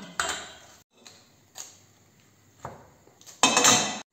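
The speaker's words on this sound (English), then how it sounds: "Empty frying pan." An empty frying pan is handled in a kitchen while frying chicken without oil, giving several separate metallic clanks and scrapes spread over a few seconds, the loudest and longest at the end, with no talk.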